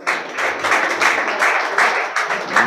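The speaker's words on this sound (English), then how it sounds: "Clap for her." An audience claps steadily for a long-serving girls' high school teacher at a school confidence-building program, dense and continuous applause with no voices over it.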